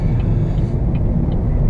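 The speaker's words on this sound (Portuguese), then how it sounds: "Olha o tamanho desse caminhão, irmão. Quatro eixos na traseira." A large four-axle truck passes on a city street at midmorning, giving a loud, steady engine rumble close by with a few faint higher clinks over it, and no talk.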